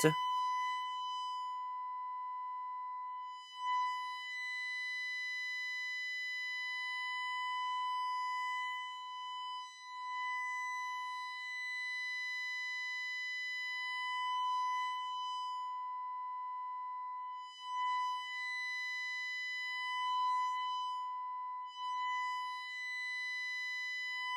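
A Flattley Star Fazer guitar phaser pedal set to a very slow rate sweeps a sustained tone, its harmonics slowly swelling and thinning in long, smooth cycles, steady and alone without any talking.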